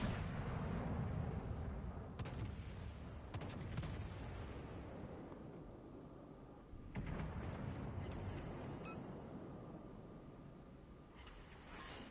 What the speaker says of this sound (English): Why is your Scharnhorst shooting out to 19 kilometers, sir?